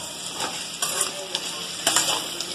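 Mushrooms, onion and garlic sizzle in a frying pan while being stirred, with steady crackling frying and a few sharp scraping stirs close by.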